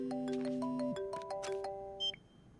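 A phone rings with a steady electronic melody of repeating tones, followed by a brief beep as the call connects.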